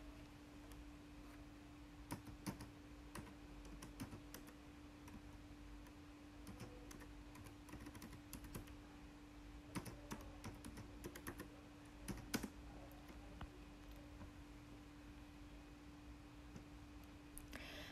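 Keys are tapped on a computer keyboard to type a command, producing a long run of faint, irregular keystroke clicks in small bursts and pauses over a constant low electrical hum, with no voices.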